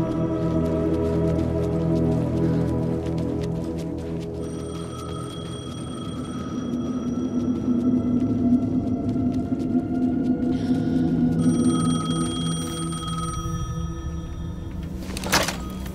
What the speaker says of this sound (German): Das Münztelefon läutete.